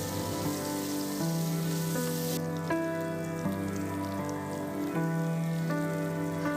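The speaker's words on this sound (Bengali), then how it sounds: "আলুটাকে তুলে নিয়ে সেই তেলের মধ্যে আমি পনিরগুলোকে ভেজে নেব" Paneer cubes frying in hot oil left from frying potatoes, a steady soft sizzle and crackle under sustained musical tones, fairly quiet and continuous.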